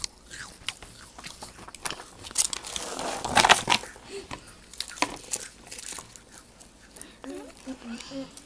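Chocolate is bitten and chewed up close, with crisp crunches and chewing noises mixed with wrapper crinkling and scraping, mostly soft with a louder crunchy burst in the middle and quiet voices now and then.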